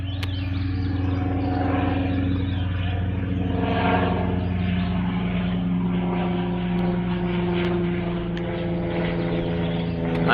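Propeller aircraft taxiing on gravel at an airfield, a steady droning engine hum with strong low tones, fairly close and constant throughout, no voices.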